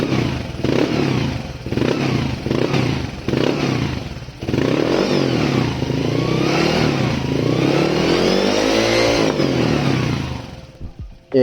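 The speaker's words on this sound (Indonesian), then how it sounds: "Ya ini bener knalpot brong." A motorcycle fitted with a loud open 'brong' exhaust revs hard and close, with several sharp throttle blips, then a sustained roaring rev that rises and falls before cutting off.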